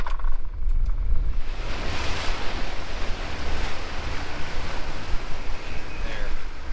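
Strong wind buffets the microphone at an ocean shore, a loud, steady roar of rushing air mixed with crashing surf, continuous throughout without speech.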